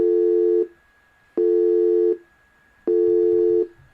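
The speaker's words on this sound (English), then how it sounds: "you are going to be presented with an interrupted dial tone." A Mitel business phone gives an interrupted dial tone: three steady electronic beeps, each about three-quarters of a second long, separated by short silences in an even repeating pattern.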